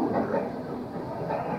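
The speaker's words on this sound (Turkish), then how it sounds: "Tren geçiyor." A train rolls past at a steady, moderate level, a continuous low rumble of wheels and cars with no voices over it.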